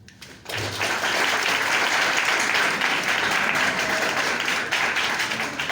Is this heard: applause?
yes